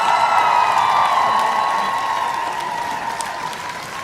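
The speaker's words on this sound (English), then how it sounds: "Give them another round of applause" Loud, steady applause from an audience at a high school sports scholarship and awards ceremony, with some cheering mixed in, fading slightly over four seconds.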